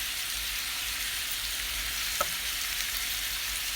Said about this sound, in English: here is my ground beef and I have it here on the stove browning